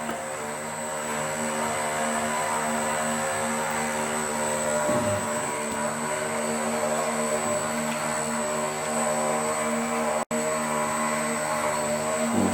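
An RC patrol boat's motor idles in a bathtub with the throttle barely open, giving a steady, even whine with a faint propeller buzz throughout and no talking.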